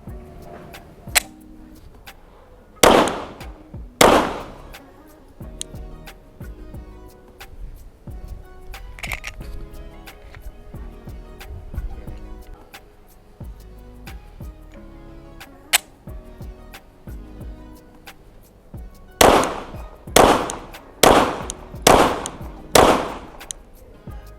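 A shotgun fitted with a Vector Optics Frenzy 1x24x29 GenII red dot sight is test fired outdoors: two loud, sharp blasts early on, then a quick run of about five shots near the end, with quiet between.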